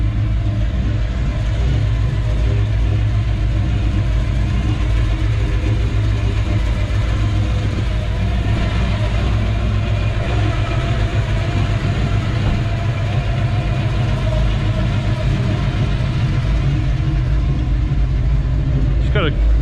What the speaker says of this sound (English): Got a nice old idle to it.